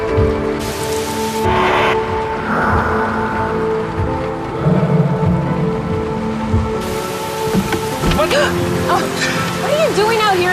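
Steady rain pours down outdoors, a dense hiss of drops on surfaces close by, while people talk over it.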